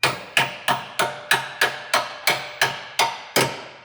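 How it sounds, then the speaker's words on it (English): A small hammer taps car suspension parts while a lower control arm and thrust arm are fitted on a Mercedes C63 AMG. Eleven sharp metallic strikes land at an even, steady pace, close and clear, with no talking. "Little hammer."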